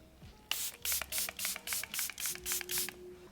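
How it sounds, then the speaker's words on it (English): Makeup setting spray misted onto a face, a series of about eight quick, evenly spaced hissing pumps in close succession, fairly quiet and close up. "So I'm just gonna spray this everywhere."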